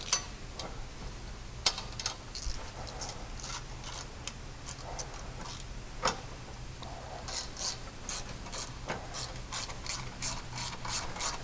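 A ratchet clicks in irregular rapid bursts, driving self-tapping screws into a 2020 Polaris General, with occasional sharper clacks; faint and close, no talk.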